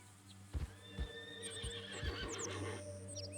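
In the Red Dead Redemption 2 video game, a horse gives a whinnying neigh over a few sharp hoof thuds, set against a steady low hum, close and moderately loud.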